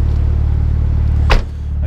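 Exhaust of a Mitsubishi Lancer Evolution 6 Tommi Makinen Edition idling close by with a loud, steady low rumble and a brief sharp whoosh near the end.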